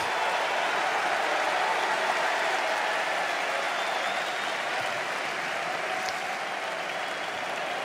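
A packed Court Philippe-Chatrier crowd at the Roland-Garros men's final applauds in a sustained, dense roar of clapping. It holds steady for several seconds, loud and enveloping, with no talk over it.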